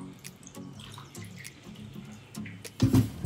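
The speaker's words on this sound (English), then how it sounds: "And we're going to fill it with water." Water runs from a tap into a measuring cup, a faint trickle with a few splashy bursts and a louder gush near the end.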